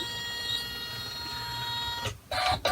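An embroidery machine stitching a placement line directly onto stabilizer for a quilted basket, giving a steady mechanical whir with tonal hum, then a brief pause and a renewed louder burst of stitching.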